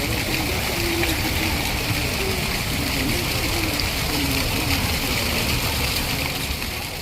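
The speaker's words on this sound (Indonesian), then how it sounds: "terlihat ada aliran air mengalir secara seragam atau laminer dari kanan ke kiri dan jumlahnya cukup banyak ya" Water pours steadily in a broad laminar sheet from right to left along a fountain-like water corridor at Taman Pintar, Yogyakarta, making a constant, even rushing wash that stays loud and unbroken throughout.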